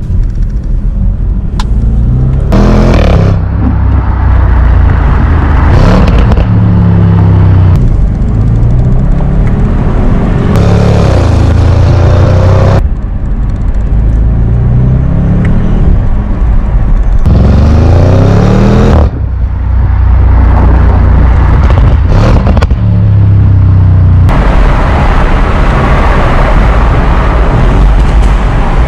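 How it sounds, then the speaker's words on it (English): An Audi RS6 rebuilt from salvage roars on the road, its exhaust swelling through loud, deep acceleration bursts and gear changes, then easing off between pulls, heard close and continuously for about half a minute. "what we can do is see how the exhaust sounds"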